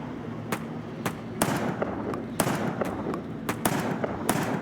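Gunshots in a video game crack out as a rapid, irregular series of sharp close reports, about a dozen bursts spaced unevenly over a low background din.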